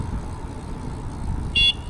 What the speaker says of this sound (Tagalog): Busina din eh.